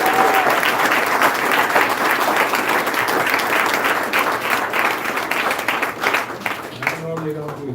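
A crowd at a No on 2 campaign gathering gives a sustained round of applause for the Denver Post, even and full for several seconds before it thins out and a voice begins speaking over the last moments.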